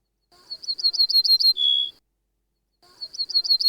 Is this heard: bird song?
yes